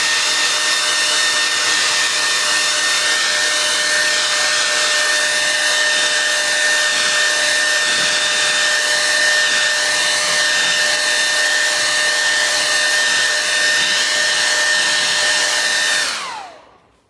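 A hair dryer blows steadily over a freshly painted watercolor, a loud, constant whirring hiss with a faint high whine that runs unbroken for about sixteen seconds before cutting off and spinning down.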